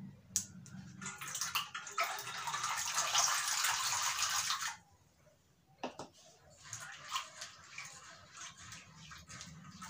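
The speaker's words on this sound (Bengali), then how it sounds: "এখন চানাগুলো চলো ধুয়ে নিই।" Raw chana is washed in water, a steady splashing, running-water rush for several seconds, then stopping, followed by softer intermittent sloshing and clinks.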